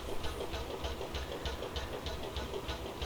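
A Lanz Schienenkuli locomotive in Train Simulator Classic chuffs its exhaust in a steady, rhythmic pulse over a low engine rumble, moderately close and alone.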